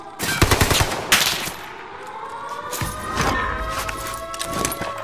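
Rapid machine-gun bursts of cover fire in a multiplayer shooter game, repeated close rattling volleys with echoing tails and faint background noise.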